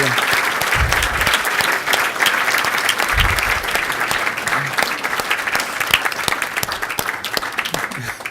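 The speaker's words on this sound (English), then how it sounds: "How about a huge round of applause for Mark?" Sustained applause from a conference audience after a business talk, loud and steady throughout, with a couple of low thumps and some faint voices in the crowd.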